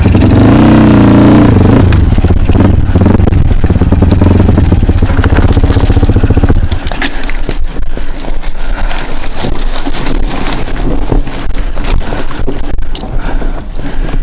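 Kawasaki KLX enduro motorcycle with an MP mono engine, revving hard and loud at close range on a hill enduro course, a throaty roar that shifts to a rough, buzzing high-rev drone.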